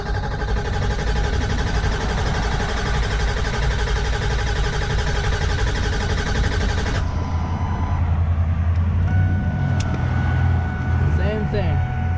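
Ford Powerstroke diesel truck engine cranking with a steady, dense mechanical drone for about seven seconds, then cutting to a lower idle-like rumble with faint clicks; a voice speaks alongside.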